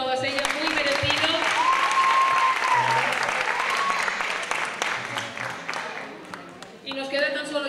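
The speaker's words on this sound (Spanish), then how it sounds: "de nuevo un fuerte aplauso para todas ellas, muy merecido" Hall audience at an evening sports awards gala gives strong, sustained applause. The clapping is dense and continuous, with music and voices mixed underneath, and it thins briefly near the end.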